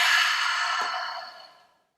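One long, deep, breathy exhale through the mouth during a yoga session. It is close and loud at first, then fades to silence over about two seconds.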